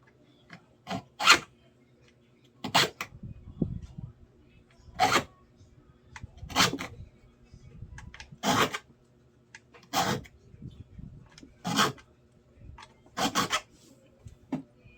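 A worn hand file rasps across handsaw teeth in about eight evenly spaced bursts, each a few scraping strokes, close and clear with quiet pauses between.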